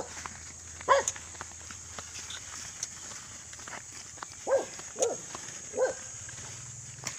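A dog barks a few times outdoors along a rough path, one short bark early and then three more spaced apart, fairly distant and faint over a steady hum and rustling footsteps.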